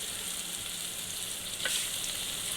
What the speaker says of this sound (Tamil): நல்லா கருவேப்பிலையும் நல்லா வதங்கி வருது.